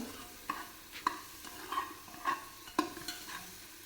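Ground spices, biryani masala, turmeric and red chilli powder, sauté in hot oil for a veg biryani while being stirred, giving a soft sizzle and about six distinct scraping strokes at a fairly even rhythm, close and quiet.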